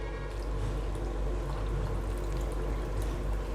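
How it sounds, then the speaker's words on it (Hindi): About two bowls of water pour steadily into a cooking pot of moong dal, a close, continuous splashing gush with no talk over it. "तो 2 कटोरी के आसपास पानी दे रही हूँ।"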